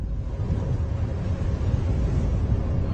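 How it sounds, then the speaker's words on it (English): A cold, sharp, strong wind roars steadily and loudly close by, a dense unbroken rush with no pauses and no voices. "The wind sharp and strong."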